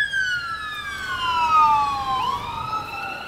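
A police siren wails nearby with a long descending sweep that turns and rises again, sounding steady and fairly loud over a low background hum, with no one talking.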